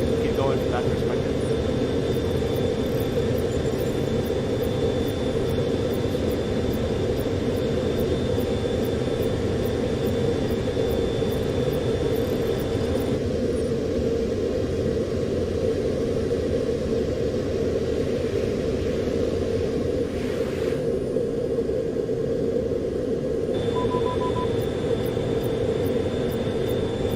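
A ground-attack jet on a bombing run in Call of Duty: Black Ops Cold War, heard as a steady, loud roaring rumble of aircraft engine throughout, with a faint high whine, under game speech.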